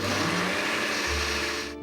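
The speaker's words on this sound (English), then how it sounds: "We're gonna whip this up in the blender too" A kitchen blender whips an egg mixture for bacon quiche muffins with a loud, steady motor whir. The pitch drops briefly about halfway through, and the sound cuts off at the end.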